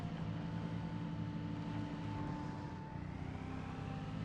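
A car reversing off-road in Project Zomboid, a steady droning engine hum with a faint whine held throughout, continuous and fairly loud with no talk.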